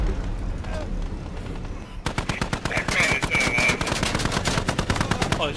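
Rapid machine gun bursts crackle loudly in a video game firefight, a sparse rattle at first giving way to a dense, continuous stream of close shots.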